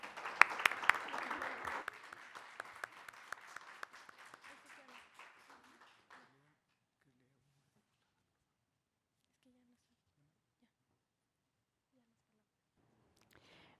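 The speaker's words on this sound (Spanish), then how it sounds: "Brindémosle un aplauso, por favor." Applause for a speaker at a forum on the 2030 Agenda, a modest group clapping for about five seconds that thins out and stops, followed by near silence with faint sounds.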